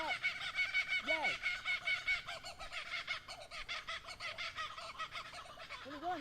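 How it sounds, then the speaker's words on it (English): Kookaburra laughing outdoors during a walk, a rhythmic, cackling run of repeated calls rising and falling, fairly faint and distant, with brief voices nearby. "And there's another kookaburra."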